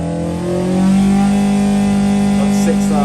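An XE engine runs on a dyno at gentle part throttle, a loud, steady droning hum that rises slightly and then holds at a constant pitch.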